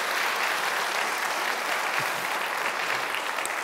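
Steady audience applause fills the hall after a public dialogue, dense even clapping from a large crowd held at constant loudness throughout, with no voice over it.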